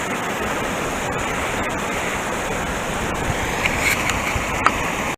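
A waterfall on a creek in Chautauqua Gorge rushes steadily as an even, close wash of falling water that holds constant from start to finish.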